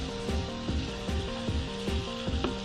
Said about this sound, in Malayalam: നമുക്ക് തക്കാളി ചേർത്ത് കൊടുക്കാം. അതിൻ്റെ ഒപ്പം തന്നെ ക്യാരറ്റും ചേർത്തിളക്കാം.